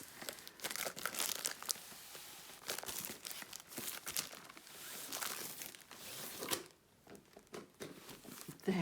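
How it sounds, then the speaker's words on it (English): Diamond painting kit from Diamond Art Club being taken out of its box, with crinkling plastic and cardboard scraping in irregular bursts, close and fairly quiet, with a brief lull near the end. "Quickly get rid of that and take the kit out of the box."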